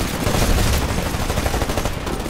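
Rapid, dense gunfire from the video game Titanfall, loud and continuous bursts with a busy broadband roar throughout, no voices over it.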